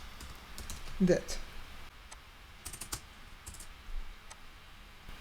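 Someone types on a computer keyboard, producing a few quiet, scattered key clicks close by, partly under a brief spoken word.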